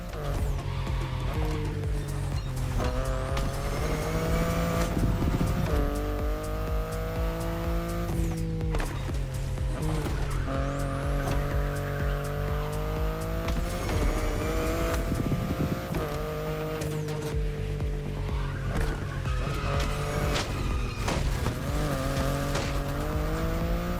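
A BMW i8 sports car races in The Crew Motorfest: a loud engine climbs and drops through repeated gear changes, with tire squeal and road roar throughout.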